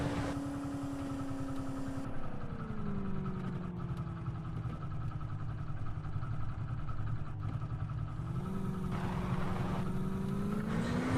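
A Hero motorcycle engine drones steadily throughout, holding a low hum, then its pitch rises slightly near the end as it revs up; no voices.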